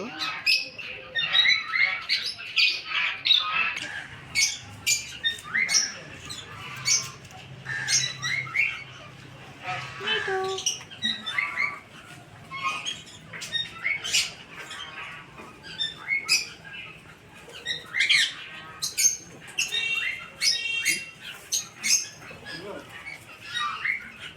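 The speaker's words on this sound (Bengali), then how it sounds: "এখানে অনেক রকম পাখি আছে লাভ বার্ডস আরও অনেক কিছু" Love birds and other assorted birds in a children's park aviary chirp, tweet and squawk densely and continuously, with many overlapping calls close by and some low background rumble.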